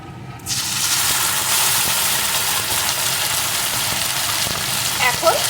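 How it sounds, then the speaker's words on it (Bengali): Ginger, garlic, green chilli and tomato paste hits hot oil with fried onions for a prawn bhuna and breaks into a loud, steady sizzle, with faint scraping of stirring near the end. "এই মশলাটা পেঁয়াজের সাথে পেস্ট কিছুক্ষণ কষিয়ে নেব"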